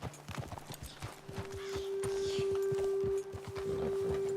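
Horse hooves clip-clop in a quick, rhythmic series of close strikes in the video game Red Dead Redemption 2, with a steady tone running underneath.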